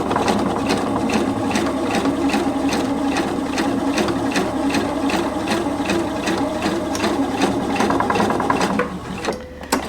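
A sewing machine runs a row of basting stitches for bound buttonholes, a steady fast needle rattle that holds for nearly ten seconds, close and loud, then slows and stops at the very end.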